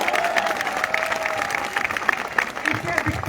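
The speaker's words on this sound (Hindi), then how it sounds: "सबसे पहले चाहूंगा कि आप सब हम सब के लिए तालियां बजाएं" A protest crowd at Jantar Mantar in Delhi claps and cheers in a loose, scattered round of applause, with a voice talking over it.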